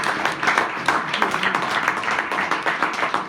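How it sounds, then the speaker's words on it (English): An audience claps after a talk on Blackpool impresario Lawrence Wright, a dense, fairly close round of applause with irregular individual claps, steady and unbroken. "So I'd just like to give Pete another round of applause."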